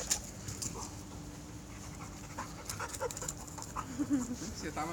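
A dog pants steadily and close by in a room, with people talking and laughing over it throughout.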